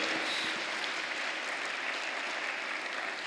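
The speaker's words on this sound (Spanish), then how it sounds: "Denle el aplauso fuerte a nuestro Dios" A congregation at a church service applauds loudly and continuously, a dense even wash of clapping with no pauses.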